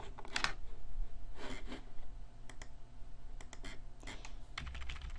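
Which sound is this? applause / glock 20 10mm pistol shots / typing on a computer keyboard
typing on a computer keyboard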